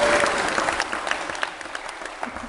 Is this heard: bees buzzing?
no